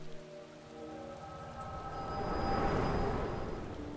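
Rain falling in the video game Final Fantasy XIV, a soft steady patter that swells in the middle beneath a fading sustained musical tone.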